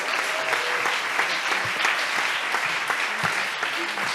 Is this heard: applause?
yes